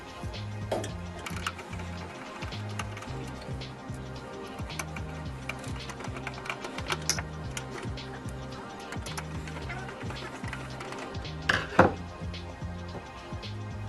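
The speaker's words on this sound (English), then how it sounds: "there are 4 screws on the back side. Get a Phillips screwdriver." A Phillips screwdriver backs out the screws holding a computer power supply, giving repeated mechanical ticking and clicking in a steady rhythm with occasional louder knocks, close and fairly clear.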